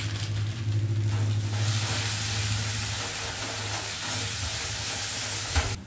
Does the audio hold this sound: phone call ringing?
no